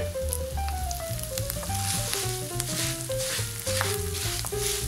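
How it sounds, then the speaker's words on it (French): Confit sizzling and frying in its fat at the very end of cooking, a steady close crackle that carries on without a break, with a melodic tone drifting over it and no talk. "Le bruit qu'il fait en plus, c'est vraiment typique de la fin de la cuisson."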